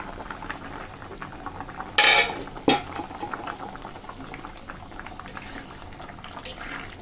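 Lentil fritter curry with new potatoes bubbling steadily in a pan, a soft continuous simmer with two brief sharp clatters near the middle, likely the lid being handled.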